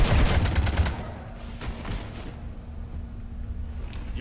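Gunfire in the video game Mass Effect 3 as a ship comes under fire: a rapid burst of loud shots in the first second, followed by fainter scattered thumps and a low hum.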